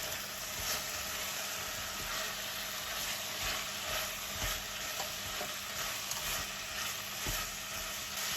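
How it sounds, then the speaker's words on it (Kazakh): Carrots fry in a pan for a lentil soup, a constant close sizzle broken by soft scrapes and clicks of stirring, with nobody talking. "Осыдан кейін үстіне сәбізімізді салып, оны да жақсылап араластырамыз"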